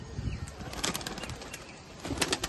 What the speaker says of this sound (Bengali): বন্ধুরা ওই পায়রা দুটো ছেড়ে দিলাম।